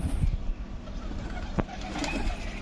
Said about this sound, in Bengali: সবগুলো কবুতর চলে আসতেছে।